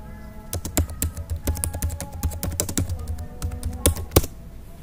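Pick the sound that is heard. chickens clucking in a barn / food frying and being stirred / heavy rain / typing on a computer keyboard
typing on a computer keyboard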